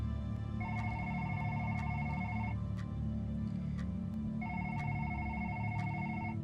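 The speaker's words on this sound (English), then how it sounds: "My diligent reading assignment is interrupted by a phone call in the silent classroom." School telephone in a quiet classroom ringing in two long electronic trill bursts separated by a pause, moderately loud over a steady background hum.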